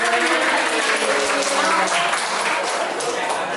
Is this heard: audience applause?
yes